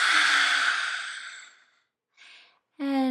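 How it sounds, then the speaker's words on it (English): A long, breathy mouth exhale during a yoga vinyasa flow fades out over about two seconds, followed by a short softer breath and the start of a voice. "Open the mouth, exhale."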